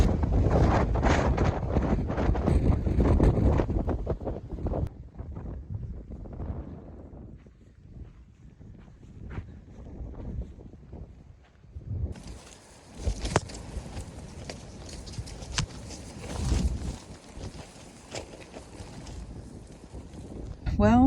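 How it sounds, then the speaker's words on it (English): Strong gusts batter the microphone while hiking up Iron Mountain in the desert, heavy roaring buffets that ease into quieter stretches, then return with a bright rushing hiss; a voice talks in places. "we got clouds rolling in and it's super windy, like very, very windy"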